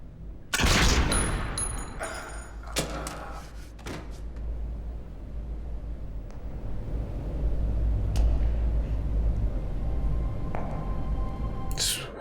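Gunfire in a Battlestar Galactica TV episode: a loud burst near the start, then a few scattered sharp cracks over a low rumbling soundtrack.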